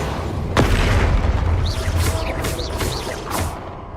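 Spell blasts boom repeatedly in a Hogwarts Legacy battle, the Confringo fire spell bursting with a heavy low impact early on, followed by more crackling explosive bursts and swooshing effects, loud and close, with no talking.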